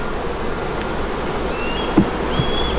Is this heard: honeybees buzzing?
yes